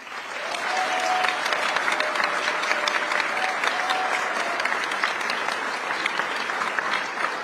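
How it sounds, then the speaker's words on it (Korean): Sustained, dense applause from a large audience at a Korean community welcoming event in San Francisco for South Korea's president, steady and loud for the full stretch with a faint tonal ring beneath. "이재명 대통령께 뜨거운 응원의 박수 부탁드리겠습니다."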